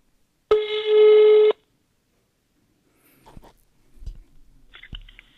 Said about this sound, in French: On va appeler cet homme. Le numéro passe par ici.